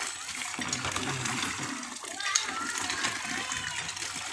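Water gushing and splashing from a hand pump well during an outdoor bath in the province, a continuous rushing pour with irregular splashes, fairly close.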